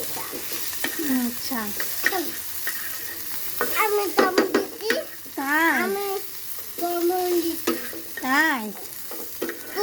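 Pointed gourd (potol) frying and being stirred in a pan, with a steady sizzle and scraping stir strokes running under frequent close-up talk from a woman and others throughout.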